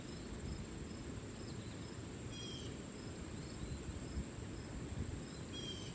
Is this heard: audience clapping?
no